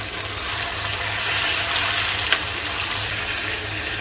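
Finely chopped tomatoes hit hot oil and ginger in a pan for a broccoli masala, a steady, close, bright sizzle and fry that holds loud and even with no speech.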